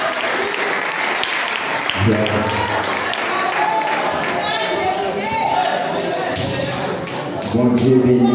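A church congregation at a revival service applauds in a long, dense wave of clapping, loud and close, with voices calling out over it.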